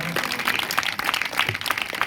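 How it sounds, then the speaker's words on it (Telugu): A church congregation breaks into brief, scattered applause, a couple of seconds of uneven clapping from a crowd in a hall. "మన సంతోషం చప్పట్లు కొట్టొచ్చుగా"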